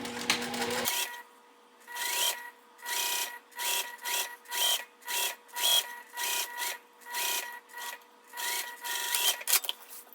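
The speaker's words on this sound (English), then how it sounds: "So we are just going to sew those 2 edges together. I'm just going to baste 1/8 of an inch" A sewing machine bastes the exterior edges of a fabric travel pouch together in a rapid run of about a dozen even, rhythmic stitching pulses. It sounds close and fairly quiet, with no talk.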